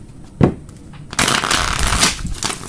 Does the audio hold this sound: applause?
no